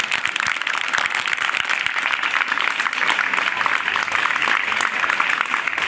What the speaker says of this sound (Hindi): एक बार सभी बच्चे बहुत जोरदार तालियों से अभिनंदन करेंगे